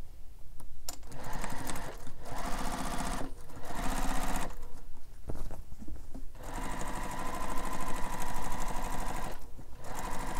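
A sewing machine runs steady decorative stitching along a bag's lining, its needle chattering in continuous bursts broken by brief pauses, loud and close with no talk.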